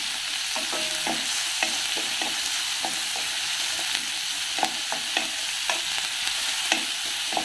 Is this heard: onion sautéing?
yes